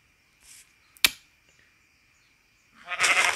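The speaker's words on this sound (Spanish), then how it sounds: "Ah, no, es una oveja." A sheep in the video game Craftman bleats in a short nasal burst near the end, after a sharp click and a faint brief call, over a quiet backdrop with a thin steady tone.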